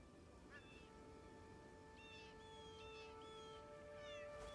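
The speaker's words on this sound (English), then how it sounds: "Now I hear more than one cat." Cats meow in the Crimson Desert video game, several short, rising calls that come and go over a steady background drone, fairly quiet and somewhat distant, as if more than one cat is calling.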